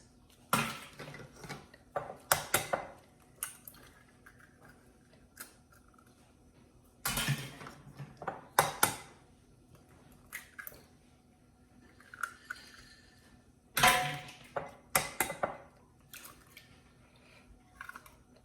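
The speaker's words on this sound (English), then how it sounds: "I'm going to crack 4 eggs in here" Large eggs are cracked one after another into a bowl with granulated sugar, three clusters of sharp cracks, taps and wet splats spread out with quiet gaps between them.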